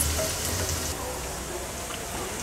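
Onion cooking with crushed ginger and garlic in a pan for raw jackfruit bhaji, producing a steady, close sizzling hiss like light rain.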